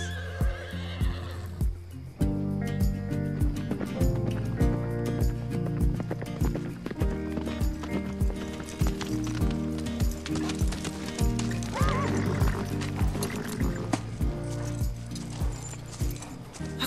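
A horse whinnies once early on and then gallops, quick regular hoofbeats pounding close and loud for a long stretch under music, with no speech.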